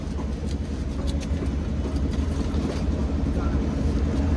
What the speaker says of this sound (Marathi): आपण हळूहळू गाडी घेऊया खाली